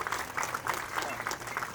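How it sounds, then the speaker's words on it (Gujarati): Audience at a religious assembly gives a round of clapping, a dense, steady patter of many hands at moderate distance, with a voice speaking over it. "આપણે પણ આપણો તાળીઓના પુષ્પથી આપણે એમનું અભિવાદન"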